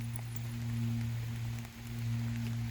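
Light rain falls at the Chickamauga battlefield near a road, a soft, steady patter of drops over a low, constant hum, with no one speaking.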